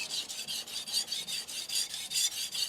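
A knife is drawn across an NSK Kogyo Oboro 800 grit whetstone in about a dozen quick, even rasping strokes, a close, steady scraping rhythm with no talk.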